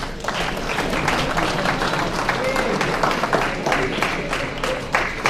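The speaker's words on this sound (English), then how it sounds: "To the parents, give yourself a round of applause" Parents in the audience at a Bahamas college soccer showcase information session clap in a steady, dense round of applause, with some talking mixed in.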